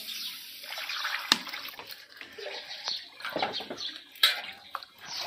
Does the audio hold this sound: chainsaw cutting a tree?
no